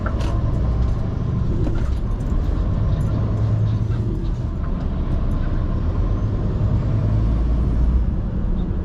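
A skip lorry drives along a rural road, its engine rumbling steadily with road noise, a brief hiss of air brakes, and other traffic passing nearby.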